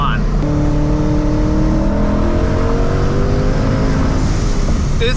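A 700 HP supercharged Mustang pulls hard in fourth gear on a backroad, its engine drone rising steadily and loud from inside the car, with a faint voice briefly audible near the end.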